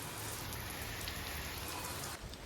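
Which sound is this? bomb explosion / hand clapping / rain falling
rain falling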